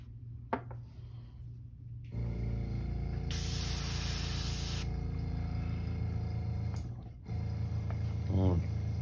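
An airbrush sprays red ink onto a crankbait lure in short hissing bursts with a brief stronger blast in the middle. The spraying is quiet and close over a low background hum, with soft handling noises.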